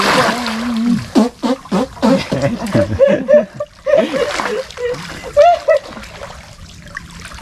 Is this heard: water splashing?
yes